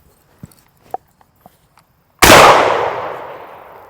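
A single loud, close gunshot fired at a pumpkin follows a few faint clicks and footsteps, its sharp crack fading into a long reverberant tail.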